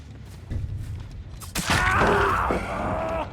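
A survivor's pained groan in the Dead by Daylight video game, a drawn-out strained moan rising over a low mechanical game ambience, close and fairly loud.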